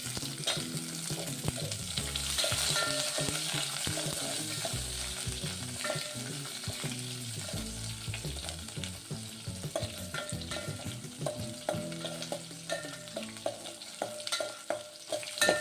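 Onions fry and get stirred in a pan for Hyderabadi wedding-style bottle gourd dalcha, a loud sizzle at first that eases off while a spoon scrapes and clinks against the pan in irregular strokes, with no speech.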